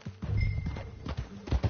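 A horse's hooves clip-clop in Red Dead Redemption 2, a few uneven thuds close by. Soft game ambience and a faint murmur of voices sit behind them.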